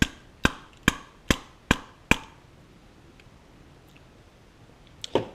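A rusted, stubborn carburetor jet on a Lawn Boy push mower's 149cc Kohler engine is struck five times in an even rhythm, giving sharp close metallic taps, followed by a short pause and a couple of faint clicks.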